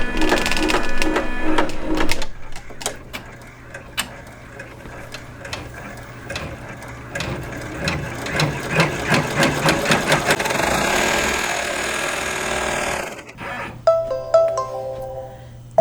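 An embroidery machine stitches out a Calico Garden Forget Me Not quilt block with rapid, rhythmic needle clatter that speeds and pauses, alongside a steady motor hum and some short beeping tones near the end.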